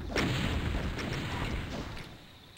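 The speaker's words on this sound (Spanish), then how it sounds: "Ahí le están disparando al Cyber Demon." Gunfire aimed at the Cyberdemon in Doom 2, a dense burst of booming shots that holds steady for about two seconds and then eases off, with no talking.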